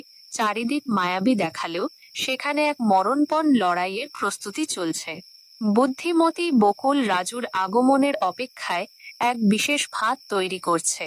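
Crickets chirp at night in a cartoon scene, a faint, steady high trill running continuously beneath a narrator's speech.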